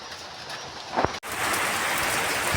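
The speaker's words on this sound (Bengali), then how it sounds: "জোরে বৃষ্টি নেমেছে" Heavy rain pouring down outdoors near a market, a dense steady hiss after a brief sharp break, continuous and fairly loud, with no voices.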